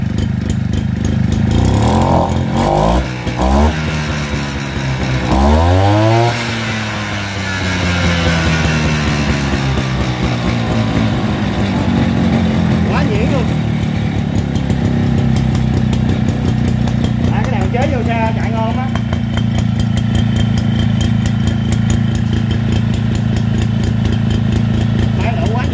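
Japanese two-stroke engine on a used sprayer and pressure-washer unit runs loud and close, with blips of revving early on before settling into a steady idle and mid-throttle drone, while someone talks over it.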